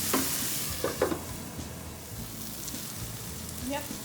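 Paneer bhurji masala cooking in oil: a continuous close sizzle with a few quick spoon-scrape stirs near the start and end, no talk.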